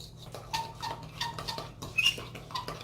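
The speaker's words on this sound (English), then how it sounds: "And I'm going to mix this." Meatloaf ingredients are mixed in a bowl with a utensil, making soft repeated clicks, taps and squelchy scraping at a steady, close pace.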